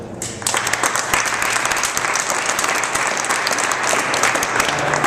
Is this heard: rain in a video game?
no